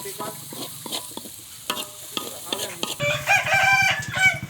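Bird and rat meat is dry-stir-fried home style in a pan, with quick scraping stirs over a steady sizzle and a rooster crowing loudly nearby toward the end.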